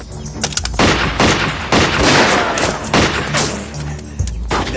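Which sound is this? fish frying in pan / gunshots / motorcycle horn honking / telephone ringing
gunshots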